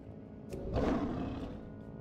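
A player in World of Warcraft transforms into a sea lion, giving a single short, throaty roar that swells and fades within about a second over quiet game ambience.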